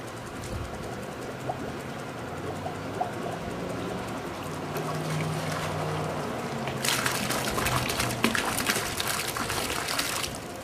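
Water splashes and gushes while a liquid pool conditioner bottle is rinsed out, a steady close flow that swells into a brighter, louder rush partway through.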